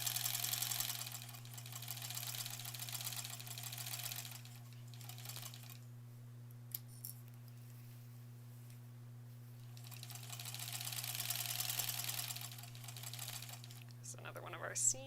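Domestic sewing machine stitching sashing strips for a granny squares quilt, a steady motorized whir running in two long bursts with a pause between, steady hum beneath, someone speaking now and then.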